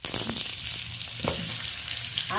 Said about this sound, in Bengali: আলুটা হালকা করে ভেজে নেব